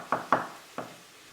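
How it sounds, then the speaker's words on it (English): Garlic is smashed and chopped on a board, three sharp knocks with a knife: two in quick succession, then a third after a short pause, fairly close and moderately loud. "we just smash the garlic and then we chop the garlic"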